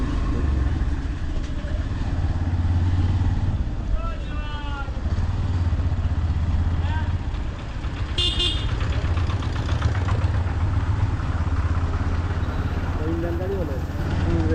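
A vehicle engine rumbles and idles at the Bhomra border crossing between Bangladesh and India, a steady low drone with a brief horn toot, under people talking nearby.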